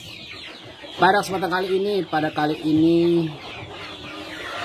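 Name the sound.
chickens clucking at a village chicken farm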